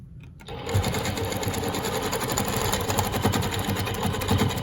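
A longarm quilting machine stitches in the ditch on a quilt, running as a steady fast needle chatter with a continuous motor hum that holds at an even, close level throughout.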